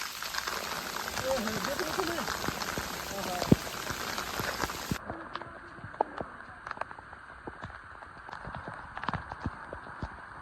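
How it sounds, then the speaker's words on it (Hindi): Heavy rain pours steadily onto grass outdoors in a hilly setting, a dense continuous patter with scattered louder drops, close and constant throughout. "यहाँ से इतनी भयंकर बारिश आ चुकी है ना"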